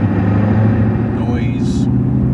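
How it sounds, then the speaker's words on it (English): A 2005 Cadillac CTS-V cruising in fourth gear at 1500 RPM gives a steady, loud low engine and road rumble from inside the cabin, droning continuously throughout. "Seems to be louder in fourth gear. Fourth gear, 1500 RPMs."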